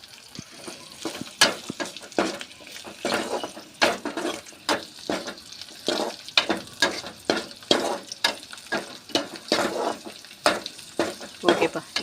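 Snake gourd seeds dry-roasting in a pan, stirred with steady, rhythmic scraping strokes over a faint continuous sizzle, close and moderately loud, with no talking.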